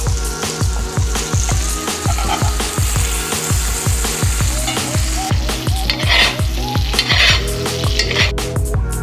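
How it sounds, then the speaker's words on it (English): Butter sizzles loudly in a pan with steak and rosemary, a steady crackling fry punctuated by regular rhythmic scraping or basting strokes, close up with no talking. "As you guys can see, the butter's cooking."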